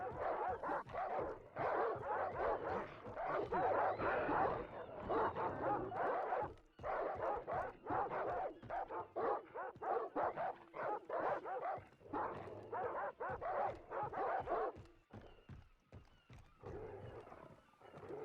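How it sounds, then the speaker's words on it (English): Angry dogs bark repeatedly and aggressively in Far Cry 3, a dense, continuous volley of overlapping barks and yips with brief pauses, close and loud. "Those dogs sound pissed."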